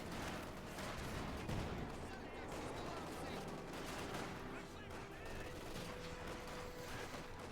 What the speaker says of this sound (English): Constant fire from the command tank.